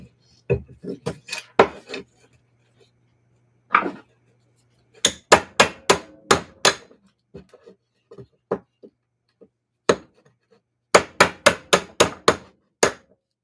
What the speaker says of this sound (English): And let's grab that chisel, do a little whacking.